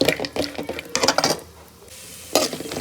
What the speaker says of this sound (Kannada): ಇದು ಸ್ವಲ್ಪ ಗೋಲ್ಡನ್ ಬ್ರೌನ್ ಆಗೋ ತನಕ ನೀಟಾಗಿ ಫ್ರೈ ಮಾಡ್ಕೊಬೇಕಷ್ಟೆ